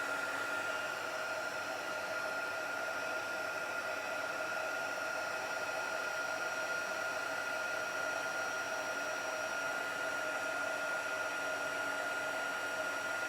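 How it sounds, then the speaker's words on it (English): A handheld heat tool blows a steady, unbroken whooshing hiss with a faint motor whine as it melts embossing powder on a papercraft project, close and constant, alone without speech. "Just bring the heat tool in. And we're going to melt that powder."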